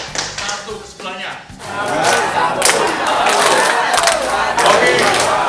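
A group of teachers at an anti-corruption teachers' camp plays a clapping game, tepuk integritas, with loud, steady crowd clapping and shouting mixed with talk.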